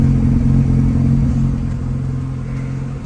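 A 1997 Mazda RX-7 FD RS-R rotary idles after a cold start, its exhaust giving a loud, steady low burble close by, with no talk over it.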